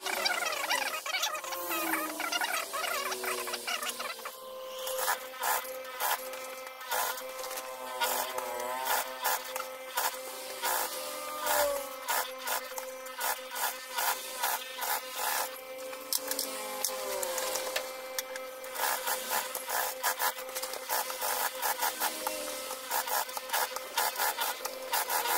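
Sewing the parts of a boxing bag together makes a steady, close, high-pitched mechanical whine that runs almost without a break, with slight shifts in pitch and a few short pauses, and no voices.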